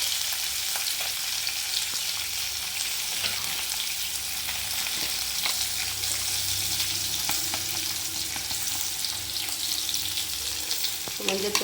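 Onions and spices sauté in a pan for an avarakkai (broad bean) tamarind curry, giving a steady close sizzle with occasional stirring scrapes and clinks throughout, with no talking.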